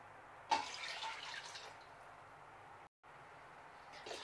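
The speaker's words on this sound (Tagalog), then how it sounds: "Here I will add 5 cups of water." Water pours into a steamer pot, a steady close splash that starts abruptly and runs for a few seconds, then breaks off briefly before flowing on quietly.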